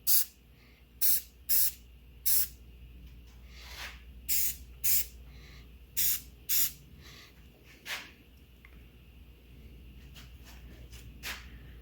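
Short bursts of spray paint hiss out in quick, separate puffs, about a dozen over several seconds, coating a homemade table saw, close and sharp against a quiet workshop.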